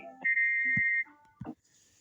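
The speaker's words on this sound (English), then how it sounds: "Annie has a whistle sound as well, and it sounds like Gordon's broken whistle" Annie, a train in a video game, sounds a broken-sounding whistle: one sustained, thin, steady tone of about three-quarters of a second, with a couple of short clunks before and after it.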